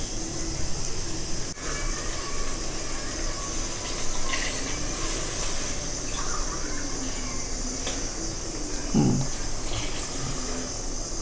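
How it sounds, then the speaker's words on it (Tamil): Water poured into rice in a vessel, a continuous gushing pour with a steady high hiss running throughout and a brief clink near the end. "கலக்கி இப்போ ஜலத்தை விட்டுடலாம்."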